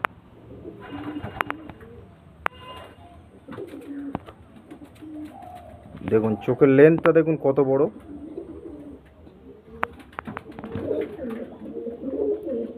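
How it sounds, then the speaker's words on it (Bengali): Black pigeon cooing in a burst of low rolling coos, fairly close, with someone talking about the bird before and after. "ব্ল্যাক পায়রা।"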